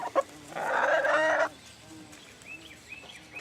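A hen gives a loud drawn-out squawking cluck up close, followed by softer short clucks and chirps from nearby chickens.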